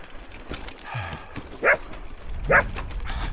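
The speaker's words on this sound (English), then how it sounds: "how the dog started barking and running after me" A dog barks sharply twice, fairly close, while chasing someone on a high mountain road near Song-Kul lake, with scuffling and outdoor rumble between the barks.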